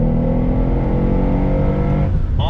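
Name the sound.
2019 Mercedes-Benz AMG SL63 Roadster driven on throttle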